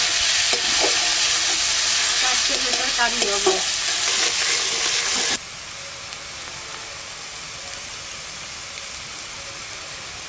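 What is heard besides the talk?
chopped onions frying for cauliflower curry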